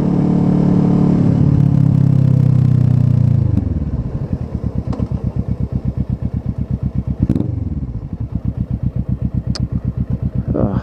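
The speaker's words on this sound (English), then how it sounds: "Motor sounds good. Especially with that aero exhaust." Motorcycle fitted with an aero exhaust, engine revving loud and close at first, then settling into a steady rhythmic pulsing drone while riding, with a couple of brief sharp clicks along the way.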